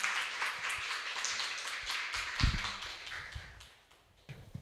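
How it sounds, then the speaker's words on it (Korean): A small audience at an education forum claps for a speaker, with sparse, uneven claps and taps close by that thin out and briefly fade before a few last claps. "박수 부탁드립니다."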